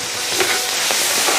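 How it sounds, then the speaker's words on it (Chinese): Sichuan pepper, ginger, scallion, garlic, chili bean paste and hotpot base are stir-fried together for spicy crayfish, giving a loud, dense sizzling hiss with faint scraping stirs, close up and without speech. "这开始炒料了，再把花椒，再放入姜、葱、蒜，再来点豆瓣儿，再放入火锅底料。"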